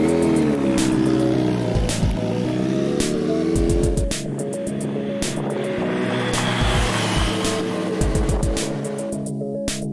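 A 2007 Kawasaki Ninja ZX-10R sportbike engine revs loudly and continuously up close, its pitch sweeping up and down through several throttle blips with sharp gear-change dips, no voices present.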